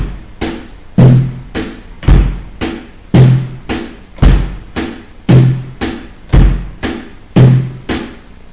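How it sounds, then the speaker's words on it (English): A drum kit plays a steady groove, with bass drum, snare drum and hi-hat struck together in an even repeating pattern. Close, punchy hits and low thumps sound alone for several bars. "So now we have the bass drum and the snare drum and the hi-hat all in a oneer"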